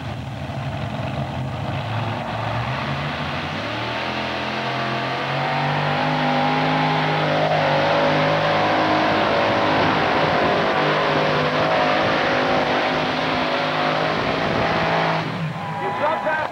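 Modified-class tractor engine roars loudly and steadily at a 2003 ATPA tractor pull in Salem, Indiana, building in pitch over the full pull with crowd and announcer noise blended underneath.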